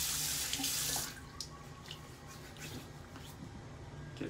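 Tap water runs steadily into a sink to wet a large shaving brush, loud and close for the first second, then continuing as a softer trickle with small splashes and squishes, no talking.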